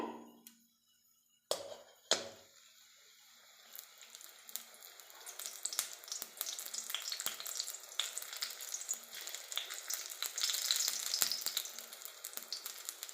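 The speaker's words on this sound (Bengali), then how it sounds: "একটু ভেজে নেব ভালো করে।" Pitha, a rice-flour cake, frying in a little hot oil in a pan under an upturned bowl, a soft crackling sizzle that starts after a couple of sharp knocks and builds into dense, steady spattering.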